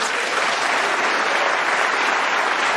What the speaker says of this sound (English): The applause from the mathematicians in the audience